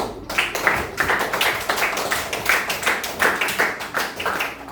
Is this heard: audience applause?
yes